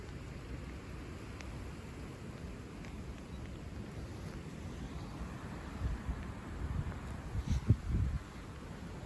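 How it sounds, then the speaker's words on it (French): Strong, steady winter wind roars during storm Eowyn, a broad continuous rush with a few heavier gusts swelling near the end. "c'est du vent fort d'hiver sans caractère aggravant"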